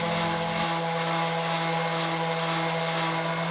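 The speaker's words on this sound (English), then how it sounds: "I need to take a few minutes with my random orbit sander and get the top sanded out nice and smooth" A random orbit sander smooths a wooden end table top with a steady, continuous droning whir, close and alone, its pitch shifting slightly in the first second.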